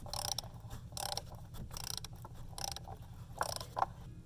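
A ratchet wrench loosens an oil pressure sensor switch on a Chevy/GMC engine, giving several bursts of close clicking and grinding spread across the clip, with no talking.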